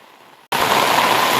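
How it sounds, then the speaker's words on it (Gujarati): Heavy monsoon rain pours down in a dense, loud, hissing roar that kicks in abruptly after a quiet half second and holds steady to the end. "કેવો વરસાદ છે."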